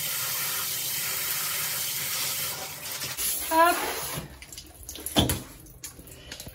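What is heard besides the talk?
tap water running while rinsing plants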